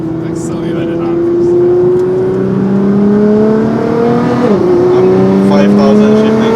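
Nissan GT-R accelerating in second gear from about 3,000 RPM, engine drone rising steadily with a whirring tone and a brief dip before climbing again, loud inside the cabin.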